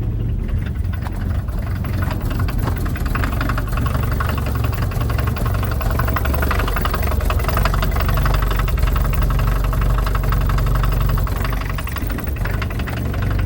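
A 35-year-old VW Transporter T3 diesel engine idles rough and lumpy after a cold start in freezing weather, a steady, loud, close knocking rumble that continues unbroken with no voices.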